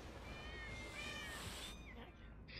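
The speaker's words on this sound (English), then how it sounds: "Look at all these cats." Several cats meowing in the Minecraft Story Mode video game, soft high-pitched mewing calls repeating over a steady faint background hum, with no talk.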